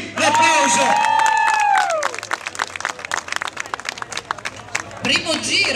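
Crowd applause and cheering for Bergamo-born cyclist Ennio Vanotti at a cycling celebration, loud and dense for about two seconds with whistles and shouts, then thinning into scattered clapping before swelling again at the end.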